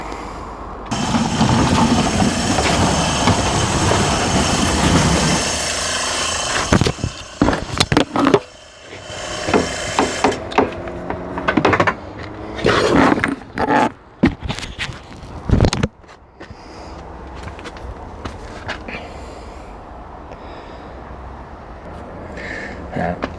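A recycled trommel sieve for leaf mould, converted to solar power with a mobility scooter motor and gearbox, runs with a steady mechanical hum and rattle, broken by clanks and bursts of activity, then settles into a quieter drone.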